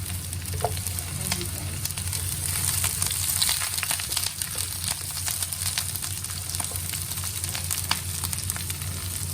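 Large-cut onions stir-fry in a pan for a Chinese-style fish fillet dish, giving a steady, dense, close sizzle with occasional light scrapes and clicks of stirring throughout, no voices.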